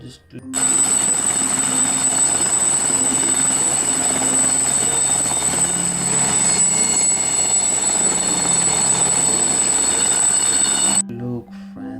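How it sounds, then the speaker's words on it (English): A toy helicopter whirs with a steady, loud buzzing drone lasting about ten seconds that stops abruptly at the end, with a voice talking over it. "Wow, helicopter."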